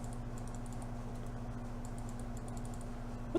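Soft, rapid clicks and taps from a computer mouse and keyboard patter quietly and close over a steady electrical hum while a football management game is played, with one slightly sharper click at the very end.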